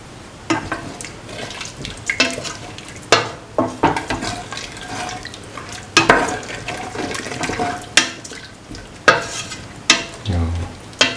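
Ginger potato rice being stirred and fried in a pan: a soft sizzle runs under repeated sharp scraping strokes of the spoon, coming in irregular bursts about every second, close and fairly loud.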